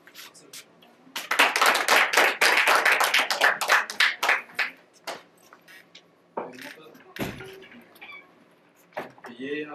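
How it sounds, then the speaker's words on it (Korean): An audience at a lecture breaks into applause to welcome the lecturer: dense clapping swells for about four seconds, then thins into scattered claps and faint room noise. "박수"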